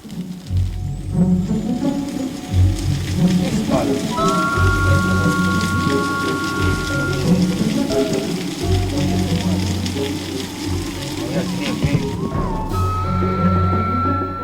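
Heavy rain pours steadily on a long trek through the Chachapoya region toward the Laguna de los Cóndores, a dense close hiss with deep thunder rumbling repeatedly underneath and occasional faint tonal sounds.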